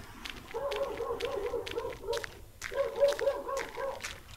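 A dog barks in two quick runs of rapid, evenly spaced yaps separated by a short pause, moderately close and fairly loud.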